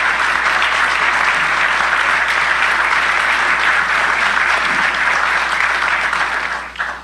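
An audience at a Lima Group diplomatic meeting gives sustained, loud applause, dense clapping filling the room before tapering off near the end.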